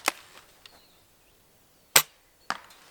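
Sharp airsoft M40A3 McMillan sniper rifle shots, three distinct cracks spaced unevenly over a few seconds with faint clicks between, fired outdoors at close range without talk.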